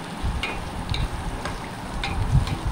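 Onions frying with spices in hot oil in a pan for a Tamil home-cooked dish, a steady close sizzle with a few light clicks and stirring scrapes.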